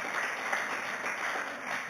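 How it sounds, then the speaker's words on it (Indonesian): Applause from a church congregation during a Sunday worship service, a steady wash of clapping sustained evenly from start to finish with no voices over it. "Mari berikan tepuk tangan."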